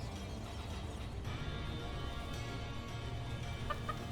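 A chicken clucks in the dungeon-management game Dungeons 4, a few soft, faint clucks near the end over a dense background of game music and ambience.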